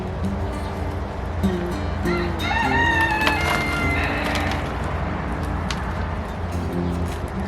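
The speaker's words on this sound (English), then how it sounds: "I'm going to have to run that rooster off if he keeps that up." A rooster crows once, a drawn-out cry standing out over steady outdoor background noise, with faint animal sounds around it.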